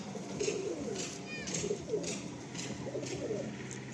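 Pigeons of a racing loft cooing repeatedly in soft, low rolling calls, with a faint chirp and background noise under quiet voices.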